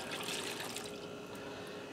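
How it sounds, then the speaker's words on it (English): A cup of water poured over red skin potatoes in a pressure cooker, a steady splashing pour heard close and alone for under two seconds. "now I have a cup of water I'm going to dump down over the potatoes"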